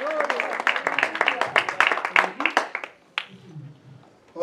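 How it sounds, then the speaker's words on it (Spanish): A church congregation applauding, with dense rhythmic clapping that is loud and close for about three seconds, then dies away to murmuring and a few stray claps. "Un aplauso al Señor por aquellos siervos que se guardan para Cristo."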